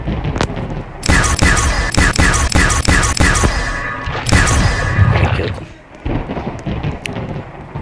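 Ray gun fire in the video game Area 51: rapid bursts of sharp blasts in quick succession, loud and close, with rumbling crashes between volleys and brief pauses.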